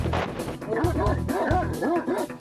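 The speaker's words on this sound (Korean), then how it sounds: "시끄럽게 짖으며 운전자의 혼을 쏙 빼놓는가 하면 산만하게 움직이는 통에 운전을 방해받기 십상입니다." A dog inside a car barks, yips and whimpers in quick, repeated bursts, close and loud, with a voice speaking over it.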